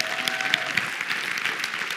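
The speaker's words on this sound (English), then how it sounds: "give him a round of applause there" Audience applause at an email marketing talk, a brief steady patter of clapping heard from a room crowd, moderately faint with no speech over it.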